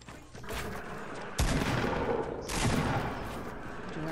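Bursts of rapid gunfire in the Fortnite video game: a sustained rattling volley, a short pause, then two louder, closer fusillades that run on continuously, with no talking over them.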